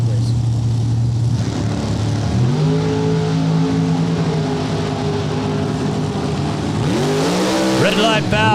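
NHRA Super Quick drag racing cars roaring and accelerating down the track, loud sustained engine drone with rising revs near the end, under continuous race commentary.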